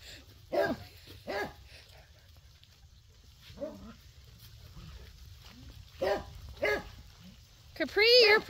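A herding dog barks in short separate bursts, about five loud barks spread over several seconds, with a higher whining yelp at the end, all close by.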